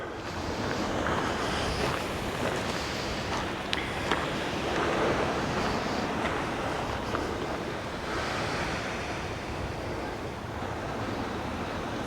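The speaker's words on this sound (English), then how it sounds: "so there's the noise of the sea" Sea waves wash steadily onto a beach at Playa Quemada, Lanzarote, a continuous broadband surf roar with gentle swells rising and falling, mixed with some wind buffeting on the microphone and no talk.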